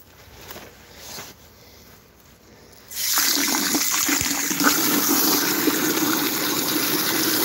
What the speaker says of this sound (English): My high pressure mixer.